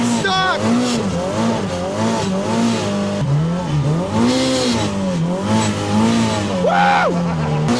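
A Pro R off-road vehicle revs repeatedly while getting stuck in deep blizzard snow, its engine rising and falling in wavering surges, loud and close, with people talking over it.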